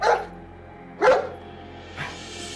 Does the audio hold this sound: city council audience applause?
no